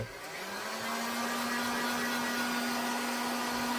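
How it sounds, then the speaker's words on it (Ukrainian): A steady, whooshing construction heat gun hums continuously at close range, with a constant tonal drone beneath the rush of air, warming a shoe heel counter and sole. "я беру будівельний фен, можна домашній, але трошки довше гріти"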